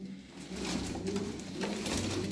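Pigeons coo softly in low, throaty murmurs, several birds close by, continuous with no talking.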